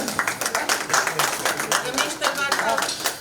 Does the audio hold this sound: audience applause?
yes